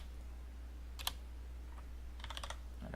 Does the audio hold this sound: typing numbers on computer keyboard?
yes